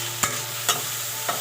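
Chopped tomatoes with turmeric and salt are stirred in a pan, three soft spoon scrapes spaced out over a steady, close frying sizzle, with no voices.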